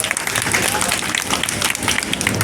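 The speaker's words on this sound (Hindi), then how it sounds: "मैं चाहता हूं आप सभी अपने लिए जोर से ताली बजाएंगे" A crowd claps loudly and continuously at a village gathering marking the birth anniversary of Bhagat Singh, a dense, steady wash of applause.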